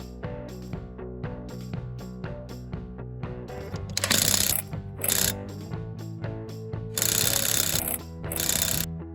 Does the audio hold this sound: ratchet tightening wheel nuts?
yes